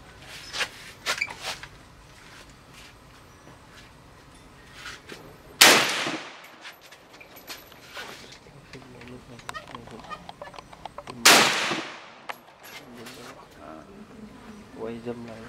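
Two sharp, loud AK-47 rifle shots fired at a target on an outdoor range in Vietnam, spaced about six seconds apart, each with a ringing tail, over background chatter and ambient noise.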